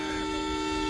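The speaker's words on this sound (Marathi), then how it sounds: "हे बघा कसं हॉर्न मारतात" Vehicle horns blare in heavy traffic at Manpada, a steady, loud, sustained honk filling the whole short moment.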